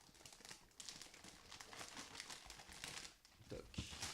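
Plastic bags of parts from a 1/144 scale Bandai Striker GN-X model kit are opened and handled, giving a close, continuous crinkling and rustling that swells and fades, with a voice briefly speaking under it.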